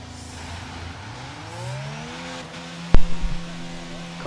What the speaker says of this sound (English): Car sounds amazing with this new engine coming in.